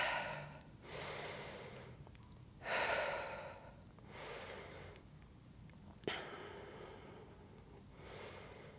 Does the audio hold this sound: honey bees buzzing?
no